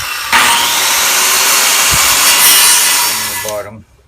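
Saw cutting into a large wooden beam to form a tongue joint during an antique farmhouse barn restoration, a loud steady rasping that runs for over three seconds before stopping abruptly.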